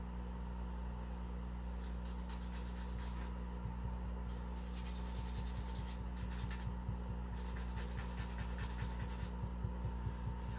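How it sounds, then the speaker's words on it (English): Hand file rasping a bevel onto a small model part, a steady run of rhythmic scraping strokes that quickens in the second half, close by over a constant low machine hum. "Putting a bevel on it."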